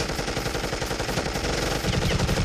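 Sustained rapid gunfire from the animated Deadpool vs Deathstroke battle, a dense, loud stream of overlapping automatic shots without pause.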